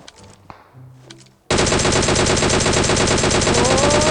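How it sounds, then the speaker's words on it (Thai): Automatic gunfire from PUBG Mobile erupts loudly after a quiet moment, a rapid, continuous burst of shots that fills the rest of the clip. "โอ้ยยิงไม่โดน"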